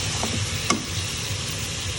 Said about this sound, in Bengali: এখন মাংসটাকে ঢেলে দিচ্ছি।